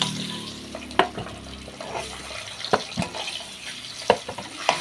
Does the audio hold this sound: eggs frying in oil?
yes